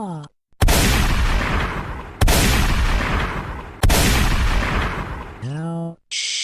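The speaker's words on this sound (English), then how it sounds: "You shot me, Sam." Three loud, booming gunshots in a comedy sketch, each a sharp blast followed by a long echoing decay, spaced about a second and a half apart, with a voice cutting in right after.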